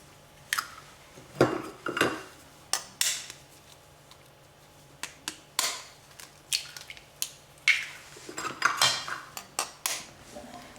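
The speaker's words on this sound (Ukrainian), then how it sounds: "Тепер це все гарно змішуємо." Honey cake batter with prunes, with eggs just added, being mixed in a bowl: a string of sharp utensil clinks and scrapes against the bowl in irregular bursts, close and clear, with no talking.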